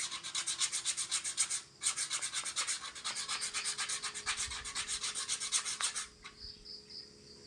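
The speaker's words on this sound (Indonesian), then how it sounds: "sambil kita ngehaluskan lagi pakai amplas kasar ini" Coarse sandpaper rubbing a wooden kitchen ladle in steady back-and-forth strokes, a close, loud rasping scrape with a brief pause before the strokes resume, then fading out.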